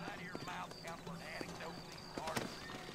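Horse hooves clip-clopping in Red Dead Redemption in the New Austin region, quick rhythmic hoofbeats mixed under a voice talking along with game sounds.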